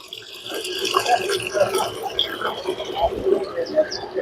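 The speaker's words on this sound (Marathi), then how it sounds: "हे पाणी फिरत केलेलं आहे याला फिल्टर पण लावलेलं आहे" Filtered water circulating through a home pearl-farming tank, giving a steady close trickle and bubbling flow with small drips, with a person talking over it.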